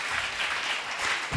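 A church congregation applauds in praise, a dense, even wash of many hands clapping at once, sustained and fairly loud throughout.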